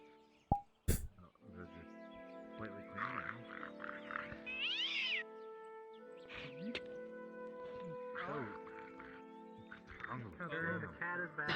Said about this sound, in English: The cat is back.